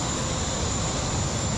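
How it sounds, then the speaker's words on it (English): A small jet engine roars in a loud, steady, broadband rush that stays constant throughout, with no talk over it. "It's clearly a small jet engine."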